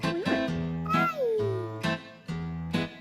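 A kitten meows over and over, about five short, clear, close cries in an uneven rhythm, with faint background voices between them.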